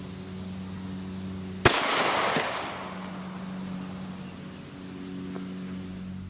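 A single sharp shot from a 30 Super Carry pistol loaded with Federal HST ammunition cracks out loudly outdoors, then its report trails off over a few seconds under a steady low hum.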